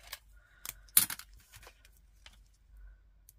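A few crisp snips of scissors cutting paper or card while making a binder from recycled materials, isolated clicks spaced irregularly, close and fairly quiet with no talk.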